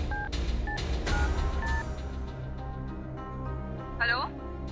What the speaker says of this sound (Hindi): अभी रिया को फोन लगाते हैं।